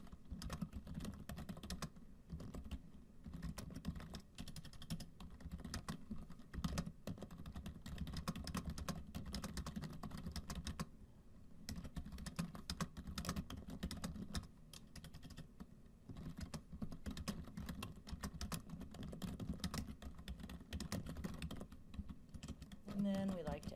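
Fast, continuous typing on a computer keyboard while entering a title report, dense close clicking keystrokes with brief pauses, and a voice speaking faintly underneath.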